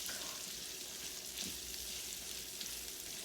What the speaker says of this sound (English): 2 tablespoons of butter, of real butter, and just let that melt down